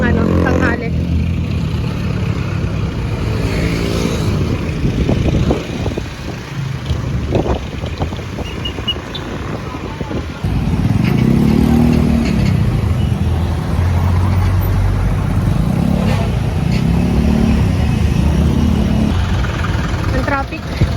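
Street traffic rolls past on a hot, windy midday in a Philippine town, cars and motorcycles rumbling nearby under heavy wind buffeting on the microphone while a person speaks over it.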